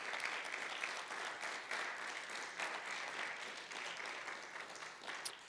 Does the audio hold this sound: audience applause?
yes